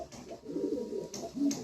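A male Andhra Kalshira pigeon coos in a loft, a low, close, throaty rolling call that repeats twice over quiet background.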